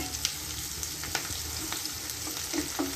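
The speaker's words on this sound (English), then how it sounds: "Add the shallots. Okay, let it turn slight brown." Shallots frying in a pan for a thick mutton masala, an even close sizzle with occasional light spatula scrapes and pops over a low hum.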